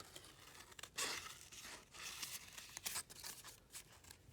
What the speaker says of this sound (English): I'm going to cut along this line